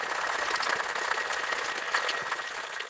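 Ice rattles hard and fast inside a cocktail shaker during a wet shake of a rum egg nog, a loud continuous churning clatter that keeps going to the end.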